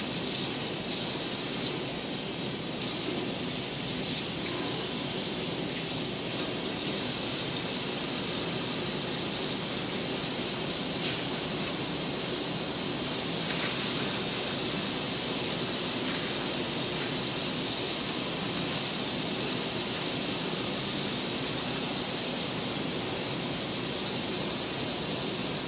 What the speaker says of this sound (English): We just hold our hands right straight down and let the water just run off of it.